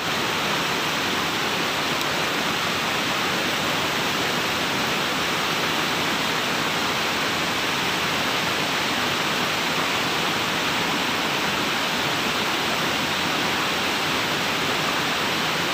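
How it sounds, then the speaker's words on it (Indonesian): Loud, continuous roar of a remote waterfall at the end of the Citi'is river in Indonesia, a dense unbroken rush of falling water that fills the whole clip without pause. "oke teman-teman kita sudah sampai di area air terjun"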